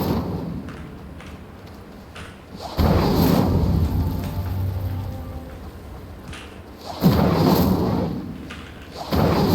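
A fire spell cast in the Hogwarts Legacy video game: two loud whooshing bursts about four seconds apart over a low, rumbling background.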